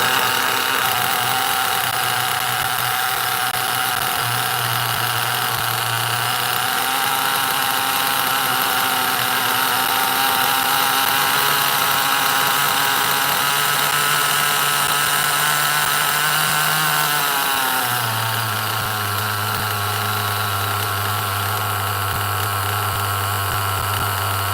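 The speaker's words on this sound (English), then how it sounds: "Listen to that idle. Nice and low." Nitro engine of a Losi XXX-NT RC car, an O.S. .18 CV-R, idling low and steady with a constant buzzing drone that holds close and loud throughout, with slight pitch shifts partway in.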